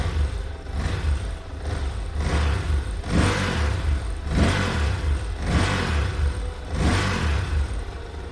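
A steady, loud mid-pitched engine drones with rhythmic surges every second or so, close and continuous throughout, with no clear moment where it cuts out.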